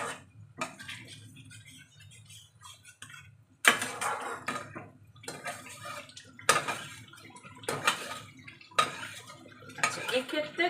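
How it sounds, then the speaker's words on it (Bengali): Chicken pieces for a matar chicken kosha go into a pan of masala, followed by a run of repeated scraping and clattering stirs of a spoon against metal. The sounds come in irregular bursts after a quieter opening. "চিকেনগুলো এবার দিয়ে দেবো।"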